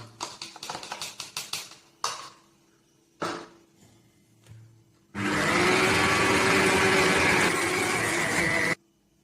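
A dough mixer machine kneads bun dough in first gear, a loud steady motor drone with churning that runs continuously for several seconds after some earlier clatter and knocks.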